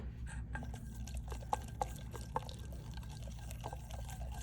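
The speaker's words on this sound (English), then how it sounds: "So I'm going to add about 10 milliliters of my filtered water first." Filtered water poured into a bowl while mixing a face mask, a quiet trickle with a few soft drips and splashes over low background hum, no speech.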